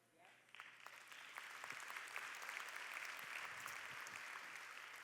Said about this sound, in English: Only a few of you are clapping